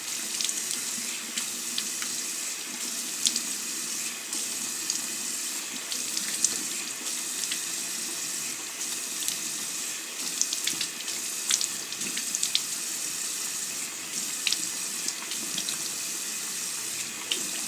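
Tap water runs steadily into a sink while a gritty facial polisher from a cleansing system is rinsed, a continuous close splashing hiss with small irregular spatters and no talk.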